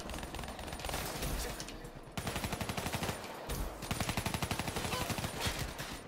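Rapid automatic gunfire in Call of Duty: Black Ops 3 online multiplayer, a dense rhythmic stream of shots that nearly fills the clip, with other distant gunfire in the background.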